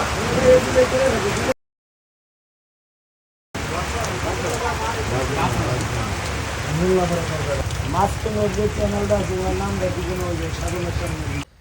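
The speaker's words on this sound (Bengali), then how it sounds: "একটানা প্রায় দেড় ঘন্টা বৃষ্টি হলো" Heavy rain pours down on a river char, a dense and steady hiss of drops striking surfaces nearby. It breaks off briefly partway through, then resumes just as thick, with no talk.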